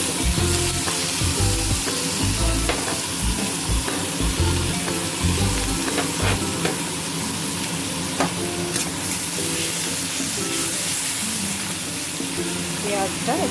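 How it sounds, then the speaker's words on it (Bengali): Onions frying in hot mustard oil in a wok, a steady loud sizzle with stirring and scraping throughout, plus some low knocks and clatter in the first half. "পেঁয়াজগুলো দিয়ে দেবো।"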